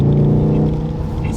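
A Mk7.5 Volkswagen Golf R's Soundaktor pipes a deep synthetic engine grunt into the cabin as the car revs, a loud, dense, steady rumble heard up close.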